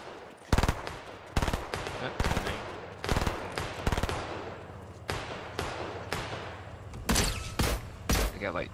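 Gunfire from the video game Fortnite, including sniper shots: a series of loud, sharp bursts roughly every second over a busy game background, some shots doubled in quick succession near the end.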